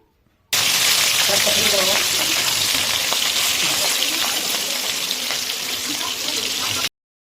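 Pieces of katla fish frying in hot white oil produce a dense, loud, continuous sizzle and spatter, close up, running steadily for several seconds before cutting off abruptly.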